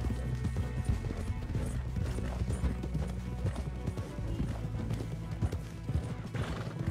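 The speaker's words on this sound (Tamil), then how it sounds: "இவ்வளோ தூரம் குதிரை ஓட்ட ஓடுதானுங்க." A horse galloping in the video game Red Dead Redemption, rapid rhythmic hoofbeats that continue steadily and loudly throughout, close up, with occasional game sounds mixed in.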